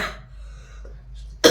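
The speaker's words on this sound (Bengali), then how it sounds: "কাশি হচ্ছে বাবা?" A child gives a single short cough right at the end, loud and close, after a second or so of near-quiet room tone.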